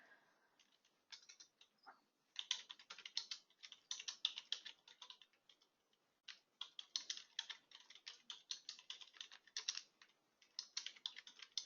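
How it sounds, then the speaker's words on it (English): Someone types on a computer keyboard in quiet bursts of rapid key clicks separated by short pauses, faint and close with no talking. "I recommend that you go ahead and type something in here."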